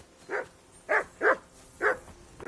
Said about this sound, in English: call off that dog and then we can talk